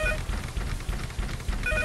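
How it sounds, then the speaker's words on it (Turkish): A telephone rings with repeated bright trills inside a horror video game, heard over a low rumbling ambient backdrop. "Ya telefon sesi nasıl oradan geliyor?"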